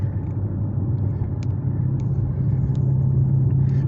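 A muscle car cruising down the road, its engine giving a steady, deep rumble that stays close and constant throughout, with no voices.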